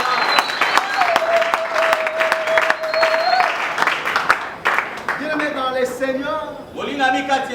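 Church congregation applauding the Lord: continuous crowd clapping in a large room, with voices singing or calling out over it throughout, fairly loud and sustained.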